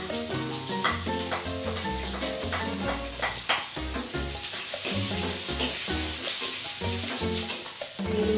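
Garlic sizzles steadily in hot oil in a heated pan, a loud continuous frying hiss with occasional stirring, close by and without talk.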